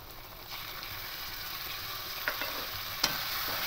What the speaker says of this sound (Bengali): এবার টক দইটা দিয়ে খুব ভালো করে এভাবে কষবো